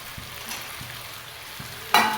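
Carrots tipped into a pan of frying potatoes, a sudden burst of sizzle cutting in near the end after quiet stirring taps.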